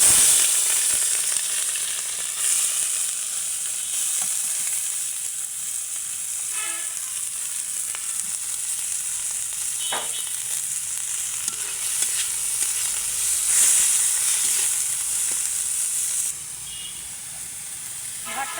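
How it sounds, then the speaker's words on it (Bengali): Small chanda fish sizzle steadily in hot oil, a dense continuous frying hiss with occasional pops and brief stirring or scraping touches, close and fairly loud throughout with no talking. "এখন চান্দা মাছগুলো যে ভেজে নেব তার জন্য করে তেলটা গরম করে নিয়েছি"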